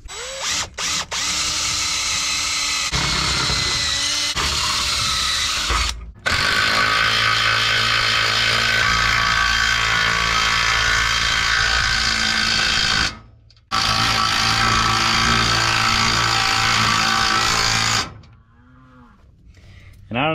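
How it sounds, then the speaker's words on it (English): Power driver sinks lag screws into a wooden 2x4 on a corral, whirring loudly and steadily in long runs with brief pauses between, and faint farm animal sounds in the background. "as the lag screws get tight, they're sucking this in a little bit"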